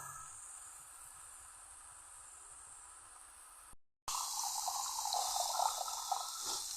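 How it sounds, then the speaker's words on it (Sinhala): Water is added to an egg curry in a pan with a continuous hissing rush. It breaks off briefly, then returns louder and fuller as the pour continues, with no talking. "දැන් ඔයාලා මේකට වතුර එකතු කරගන්න"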